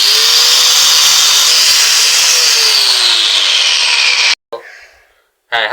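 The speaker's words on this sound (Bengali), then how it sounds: "এই যে দেখছেন কিভাবে আমি কাটছি" Material being cut for a homemade room heater, a loud, steady, close cutting whine running about four seconds, then a short pause before the cutting briefly starts again.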